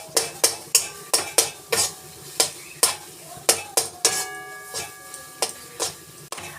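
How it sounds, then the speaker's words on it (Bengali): A utensil scrapes and taps rhythmically against a pan as raw chhena is mixed into a cooked sweet mixture off the heat, about a dozen sharp clinks in an uneven beat, close and clear. "দিয়ে আমি এই কাঁচা ছানাটা এর সঙ্গে দিয়ে ভালো করে মিশিয়ে নিচ্ছি।"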